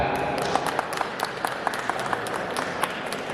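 Audience clapping as a show of hands for a wrestler in a vote, a dense steady patter of many hands with a few sharper claps standing out, filling the whole moment.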